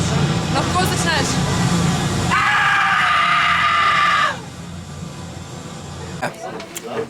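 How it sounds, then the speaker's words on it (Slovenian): A group of children screams loudly together on cue, a sustained shrill outburst lasting a couple of seconds amid an already noisy, reverberant crowd, followed by quieter chatter and scattered voices. "Zdaj pa lahko začneš kričati."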